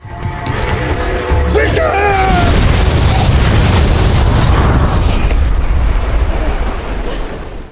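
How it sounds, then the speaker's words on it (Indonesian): A ship explodes in a film with a deep sustained boom and long rumbling roar that fills the whole stretch, while a voice narrates over it throughout. "Arthur mengikat Crane agar ikut meledak bersama kapal"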